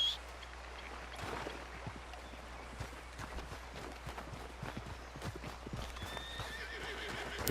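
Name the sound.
horse clip-clopping and neighing in video game Red Dead Redemption 2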